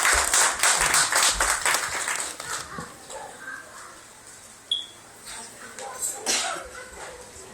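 Audience applause at a poetry recital during a mushaira, a burst of clapping that fades out, followed by scattered quiet room noise.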